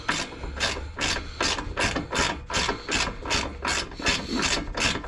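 Quick rhythmic ratchet clicks, about a dozen even strokes, come from a ratchet on an extension loosening screws on a VW Passat 1.9 TDI, close up and clear with no talking.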